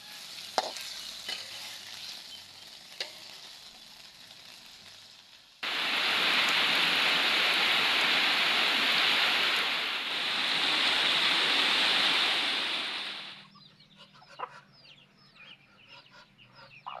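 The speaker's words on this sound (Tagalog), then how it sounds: "lumakas ang ulan dito habang ako'y nagluluto" Heavy rain pours down on an outdoor wood-fire kitchen where chicken and adobong sitaw are cooking; a loud, steady roar starts suddenly, holds for about eight seconds, then falls away to quieter background with faint chirps.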